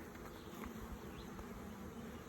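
Carniolan honeybees drone in a steady, dense buzz at close range while a hive is opened for inspection, the hum unbroken and even with no voices.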